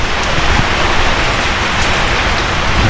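A steady, dense roar of heavy rain pours down without pause during a long wet spell at a house, loud and even throughout with no voices.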